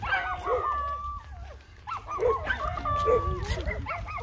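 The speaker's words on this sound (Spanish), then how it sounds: "Hay muchos perros." Several dogs bark and yip at a moderate distance in Chuaquenun, Joyabaj, Quiché, in scattered bursts over steady outdoor background noise.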